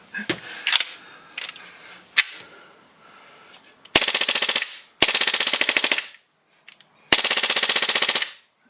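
A Knuckles Customs BBU blaster fires full auto in several rapid bursts, each a dense, loud mechanical rattle lasting about a second, with scattered clicks and handling noises between the bursts. No voices are heard.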